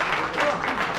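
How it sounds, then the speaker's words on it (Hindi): An audience at an association election claps for a candidate, a dense burst of applause mixed with voices, close and fairly loud. "अनिल देव पांडे के लिए जोरदार ताली।"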